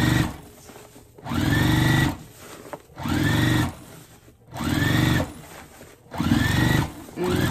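A sewing machine back-stitches over a seam on a car trash bag in four loud, even bursts separated by brief pauses, close up.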